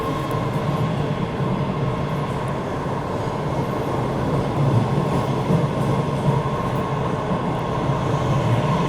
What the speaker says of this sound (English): we'll get on the final subway car